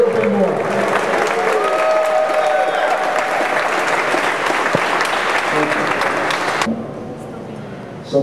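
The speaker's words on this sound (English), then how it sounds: "So please applaud for them." Sustained applause from a large audience at a Friday night marathon celebration in Cleveland, with some cheering and voices mixed in, steady and full for about six seconds before thinning into fainter scattered clapping.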